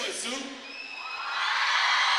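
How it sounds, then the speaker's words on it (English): Raucous crowd at a high school girls volleyball game, Christian Brothers versus St. Francis, with whoops and yells rising into sustained loud cheering that swells toward the end. "It'll be difficult to find a more raucous crowd than what you're going to see and hear this evening"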